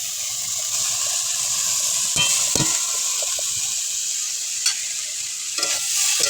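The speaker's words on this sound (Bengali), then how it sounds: "এবার দিয়ে দেবো কুচে রাখা ডিমের শাকটা।" Chopped leafy greens stirred into a pan with ripe tomato for a Bengali shak chingri, loud continuous frying sizzle and hiss with a few sharp utensil scrapes close by.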